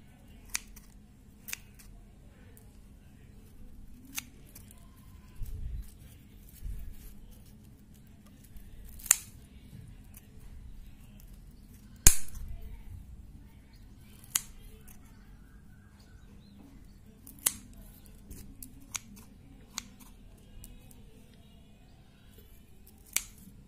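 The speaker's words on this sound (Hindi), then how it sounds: "जैसे जैसे इसके पत्ते मैं काट रही हूँ, इसकी खूबसूरती और भी बढ़ रही है।" Scissors cut the brown-tipped leaves of a spider plant in sharp, isolated snips spaced several seconds apart. The room is otherwise quiet, with a faint low background hum.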